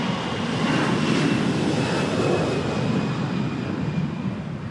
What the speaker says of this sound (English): And there's a plane coming.